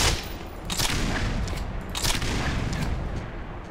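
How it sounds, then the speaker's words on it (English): Grenade launcher fire in the video game Black Mesa, heard as loud, dense blasts with broad booming noise, two bursts standing out around the start and midway, no voices. "it took me 2 shots with a grenade launcher to get that dude"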